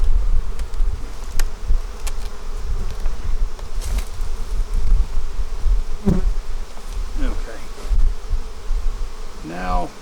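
Honeybees hum in a dense, close, continuous buzz around a hive box, with individual bees zipping past now and then and some soft handling knocks.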